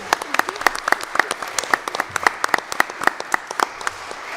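A modest crowd at a local ballot town hall meeting claps for the moderator, distinct individual hand claps popping close and irregular rather than a dense roar, continuing evenly throughout.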